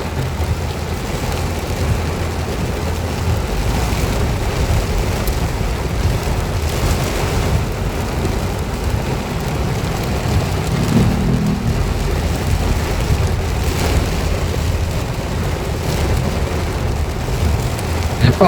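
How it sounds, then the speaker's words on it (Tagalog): Heavy rain pours down in Metro Manila in a steady, dense roar that never lets up, with a faint rumble of traffic underneath. "Lakas ng ulan dito sa Metro Manila."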